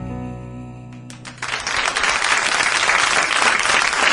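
A live radio-show studio audience bursts into loud, sustained applause for a singer at the close of a song, the last sung notes fading just before the clapping swells and holds.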